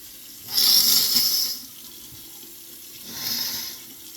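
Tap water runs into a sink while someone washes their face, two hissing splashy bursts of flow, the first longer, with quiet gaps of low room noise between them.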